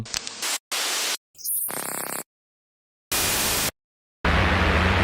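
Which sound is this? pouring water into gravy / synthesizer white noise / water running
synthesizer white noise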